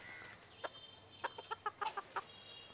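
A small ornamental chicken with a peacock-like tail clucks in a quick run of short, sharp notes, one isolated cluck followed by a rapid cluster, fairly close against a quiet background.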